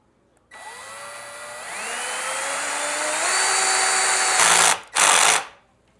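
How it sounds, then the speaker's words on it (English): A power drill driving a screw into a greenhouse frame whirs steadily, its pitch rising as it spins up, then cuts off and gives a second short burst before stopping. "let's drill that thing in there."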